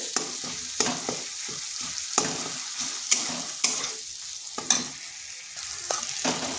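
Masala sizzling in a pan over low heat as a spatula scrapes and stirs it in regular strokes, close and clear with no voices.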